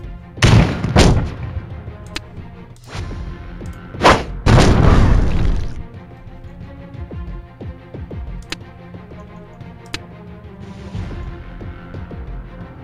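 Grenade explosions in the video game Templar Battle Force: several heavy booms, two close together near the start and a bigger, longer blast a few seconds later, then quieter distant thuds and clicks.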